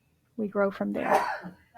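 A single sharp sneeze bursts out in a spiritual center service, right after a person finishes a short spoken phrase, close and fairly loud.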